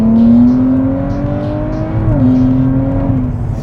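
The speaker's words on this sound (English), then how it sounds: "So you hear the Stillen exhaust on this vehicle." A Nissan Z fitted with a Stillen exhaust accelerates hard, its loud, close engine note climbing steadily in pitch, briefly dipping at a gear change, then rising again.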